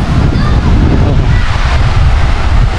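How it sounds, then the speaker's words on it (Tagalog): Strong monsoon wind buffeting the microphone by the sea, with a constant heavy roar of waves and gusts, loud and unbroken, a voice speaking over it. "Lakas ng hangin, habagat oh."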